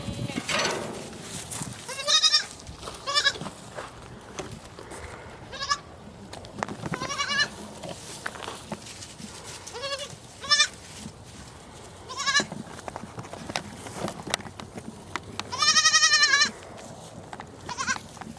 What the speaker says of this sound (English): these baby goats are curious